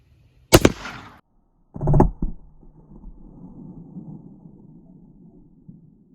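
A .308 rifle round fired at bulletproof glass, two sharp loud cracks about a second and a half apart, the second followed by a low lingering rumble that fades out.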